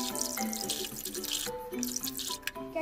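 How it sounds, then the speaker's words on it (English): A faucet runs steadily into a sink while a baby bottle is cleaned, giving a continuous close splashing wash with small shifts in the flow. No speech. "I'm gonna go clean his bottle."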